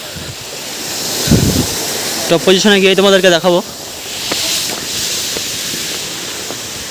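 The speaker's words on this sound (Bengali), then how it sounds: "আর এদিকতে মানে অনেকগুলো লেয়ার দিয়ে ঝর্ণাটা বইছে।" Steady rushing water from a layered waterfall at Rock Garden, Darjeeling, forms a continuous broadband wash with a brief burst of speech partway through.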